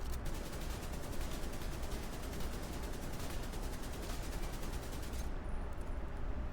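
Automatic weapon fire in The Division 2, a steady rapid burst of evenly spaced shots that runs for about five seconds against a wall in a test range, then cuts off abruptly, leaving a faint background hum.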